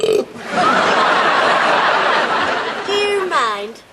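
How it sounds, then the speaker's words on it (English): A big, drawn-out belch with a beery character rumbles loud and close for several seconds, then gives way to a short bit of laughter and talk. "Big, solid, beer-flavoured belch."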